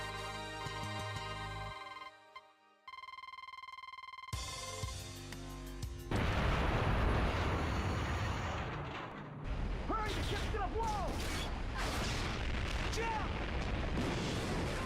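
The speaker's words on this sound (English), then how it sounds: "jump out of the explosion" A Wii game explosion booms loudly after a stretch of electronic tones, bursting into a dense, noisy roar that rumbles and crackles for several seconds before settling into lighter debris sounds.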